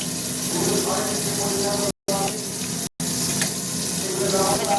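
Dried red chillies sizzling in hot sweetened oil in a pan for dal, a steady loud hiss and crackle with two brief cuts in the sound.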